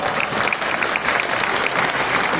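A crowd claps at a Hindi poetry recital during a Jain festival gathering, brisk continuous applause with a few sharper claps standing out, heard alone without speech.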